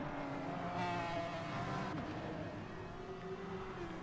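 A McLaren F1 race car engine drones steadily in Gran Turismo Sport at Interlagos, its harmonic engine note holding and shifting slightly in pitch under a wash of tyre and track noise, moderately loud throughout.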